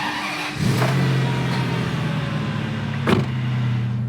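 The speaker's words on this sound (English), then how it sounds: "let's see if we can get it running" A 2003 Ferrari 575 Maranello fires up, a brief starter crank giving way to a steady, loud idle that holds close and even, with a short rise in revs partway through.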